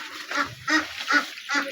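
Khaki Campbell and Pekin ducks quacking nearby, four loud distinct quacks in a steady rhythm, with no talking.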